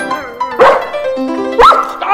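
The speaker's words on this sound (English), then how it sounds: "He always howls when he hears music." A dog howls along to music in a scene from the 1984 film Amadeus, with rising yowls that swell twice over sustained tones and voices beneath.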